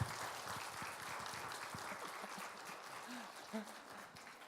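Steady applause from a church congregation fills the room, a broad continuous patter of clapping with a few voices faintly mixed in.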